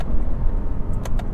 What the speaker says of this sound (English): And it'll rip downshifts.